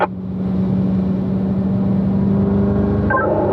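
A race car on the Spring Mountain track accelerates, its engine a loud, steady close drone that changes pitch near the end as it upshifts, with no voices.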